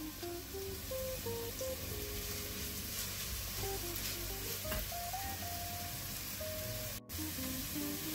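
Finely chopped half onion and two garlic cloves frying in olive oil in a pan, giving a steady, close crackling sizzle throughout, with faint background music and no talking.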